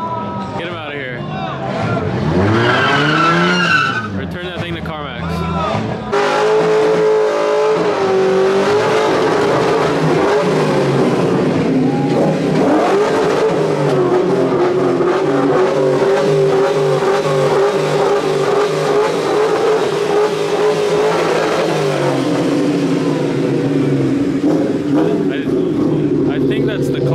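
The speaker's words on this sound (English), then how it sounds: "Burnout!" A Dodge Challenger Scat Pack at a car meet holds a long, loud engine roar during a burnout, revving with shifting pitch as tires squeal, while a crowd shouts and chatters over it.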